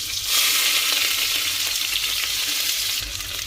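Chopped onions dropped into hot oil already frying cumin seeds and garlic cloves, a loud steady sizzle with stirring, close up, without talk.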